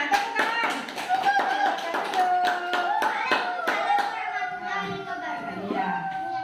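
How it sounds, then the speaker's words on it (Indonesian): A classroom applauds a student group after its presentation, with a burst of sharp, close claps that thins into scattered claps as children's voices murmur underneath. "kita beri tepuk tangan pada kelompok tanah. Tepuk tangan."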